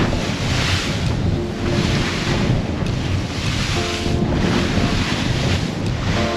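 Out at sea on a small fishing boat in rough 3 to 5 foot waves and easterly wind, loud wind buffets the microphone over rushing water and repeated wave surges against the hull, with no voices.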